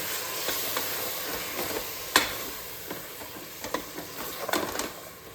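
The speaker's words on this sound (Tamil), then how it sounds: "அது போட்டு நல்லா வதக்குங்க." Ground masala is sautéed in a pan for tomato rice with a soft, steady sizzle. A spoon scrapes and stirs now and then, giving a few sharper clinks, close and fairly quiet, with no talk.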